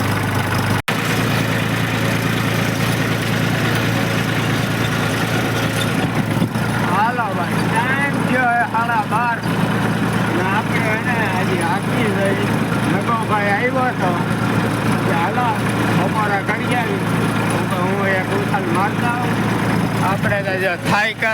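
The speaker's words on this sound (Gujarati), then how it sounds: "ટ્રેક્ટર એની રીતે જાય છે" A tractor engine runs steadily at close range, a constant low chugging drone, with people talking over it throughout.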